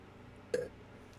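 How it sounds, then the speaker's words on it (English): A single short, close burp stands out against a quiet background about halfway through, brief and throaty, with no talking around it. "There's that disgusting burp sound"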